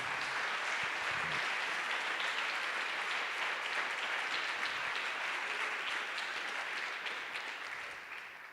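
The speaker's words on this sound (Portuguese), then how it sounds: "Você pode aplaudir a Jesus, o príncipe da paz?" A church congregation applauds together in a sustained, dense wash of clapping that fills the room and holds steady before easing off slightly toward the end, with no talking over it.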